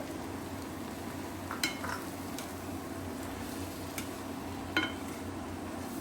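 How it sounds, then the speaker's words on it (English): Mixed vegetables for Kerala-style avial stirred in a pan over a lowered flame, a soft continuous scrape and sizzle with a few brighter clinks of the spoon against the pan, close and unaccompanied by speech. "slow down your stove and mix the vegetables well"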